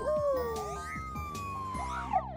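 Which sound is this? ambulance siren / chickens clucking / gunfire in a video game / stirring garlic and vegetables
ambulance siren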